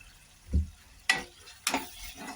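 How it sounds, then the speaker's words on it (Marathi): Masala with tomato paste and salt frying and being stirred in a pan for masala paneer, with a faint sizzle broken by three distinct scraping stirs, close and moderately loud, with no speech. "आता याच्यात मी टमाट्याची पेस्ट केली पण टाकूया आणि आता याच्यात चवीपुरतं मीठ टाकायचं आपल्याला"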